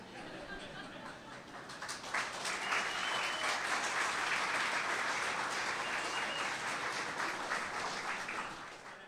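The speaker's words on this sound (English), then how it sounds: "Thank you, Alex, for the clapping." An audience at a green building slam event bursts into applause that swells and holds as a dense, even wash of clapping, heard from a moderate distance.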